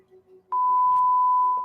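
A sharp, steady censor bleep cuts in abruptly and holds for about a second, loud and close, with faint low murmuring before it.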